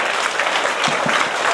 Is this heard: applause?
yes